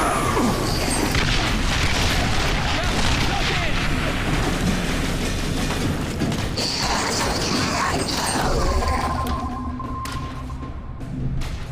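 Artillery fire-support explosions in The Bureau: XCOM Declassified, heavy booms and crashing debris over continuous battle noise, loud and close, with shouting voices in the mix.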